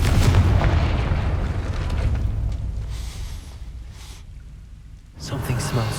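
A Confringo fire spell from Hogwarts Legacy erupts in a heavy, rumbling blast that rolls and crackles for several seconds, followed by a fresh sharp burst near the end.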